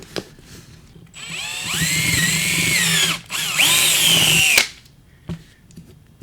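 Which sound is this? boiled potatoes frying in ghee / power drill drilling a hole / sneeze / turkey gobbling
power drill drilling a hole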